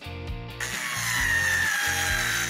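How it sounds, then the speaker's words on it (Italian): A power drill bores into a box in a loud, continuous whine, rising in pitch as it runs, with a faint rhythmic pulsing beneath it. "Mi serve un trapano!"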